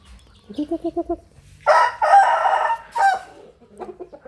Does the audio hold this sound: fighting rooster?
yes